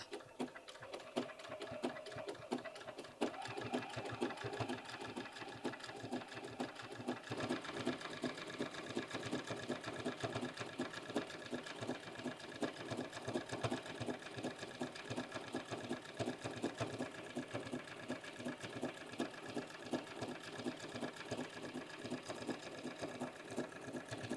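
A sewing machine runs steadily for a long stretch, blanket-stitching an appliqué onto a quilted-sleeve denim jacket, its fast, even mechanical chatter close and continuous.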